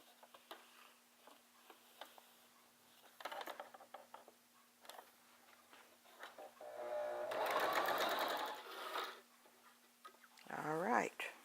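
Bursts of rapid mechanical stitching from a home sewing machine joining quilt pieces for a baby blanket, with a longer steady run in the middle and brief clicks and handling noises between runs.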